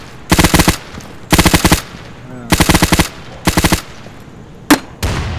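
Automatic gunfire in the game Insurgency rips out in four sharp sustained bursts, each a rapid stutter of loud cracks, followed by a single isolated shot and a final short burst.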